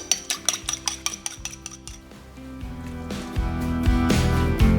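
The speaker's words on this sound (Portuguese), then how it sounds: "os ovos, vou bater um pouco antes de adicionar." Eggs with olive oil being beaten by hand in a bowl for a bacalhau folar dough, with a quick run of sharp utensil clicks against the bowl, then a steadier, denser scraping whisk close by, with no talk.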